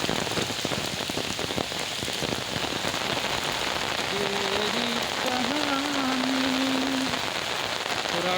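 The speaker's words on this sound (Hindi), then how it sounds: "आज के मौसम में हम बात करते हैं कि इतना जोरदार बारिश की पूरा पोखरा भर गया है।" Heavy rain pours down in a village beside a flooded pond, a dense, loud hiss of drops drumming on surfaces throughout, with a faint tonal whine rising briefly near the end.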